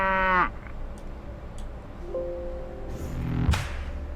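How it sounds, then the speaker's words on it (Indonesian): A cow gives a drawn-out moo at the start, followed by fainter lowing and another livestock call later, heard alone in an open outdoor setting with scattered clicks. "Sapi betina."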